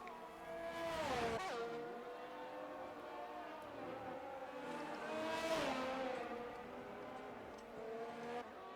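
A Formula 1 race car in a video game at the Canada circuit, its high-pitched engine revving hard and climbing through gears with brief dips at each shift, loud and sustained from start to finish.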